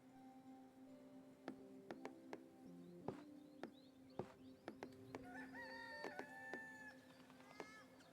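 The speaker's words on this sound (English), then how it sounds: "Is that a cockerel? I think it is." A cockerel crows in the farming village game Dorfromantik, faint and repeated among soft clucks and scattered clicks over a quiet ambient background.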